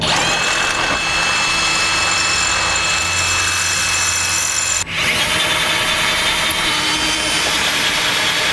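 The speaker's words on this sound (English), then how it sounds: "Then we're going to go ahead and drill out the next one," A power drill boring out a hole in a 2011 Honda CR-V frame while a Blue Ox base plate is fitted, a loud steady high whine with a brief stop and restart midway.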